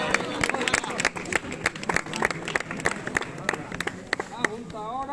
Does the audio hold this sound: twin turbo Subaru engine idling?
no